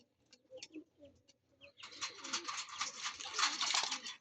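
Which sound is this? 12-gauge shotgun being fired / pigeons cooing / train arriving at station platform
pigeons cooing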